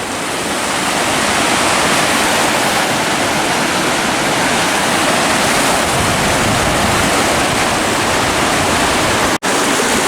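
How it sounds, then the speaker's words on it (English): Glacial meltwater runoff from Mount Hood rushes over volcanic rock, a loud, steady broadband roar of a close stream that fills the whole stretch without pause. "This is all runoff from Mount Hood."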